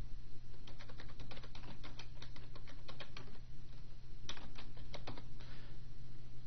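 Quick bursts of typing on a computer keyboard, with rapid close key clicks in two runs separated by a short pause, over a steady low hum.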